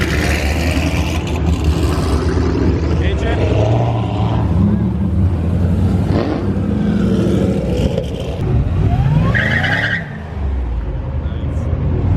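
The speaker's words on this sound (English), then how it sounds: "All-wheel drive burnout?" A loud Cadillac CTS-V engine roars and revs while tires squeal in an all-wheel-drive burnout at a street racing meet, sustained and close, with the whine rising and falling.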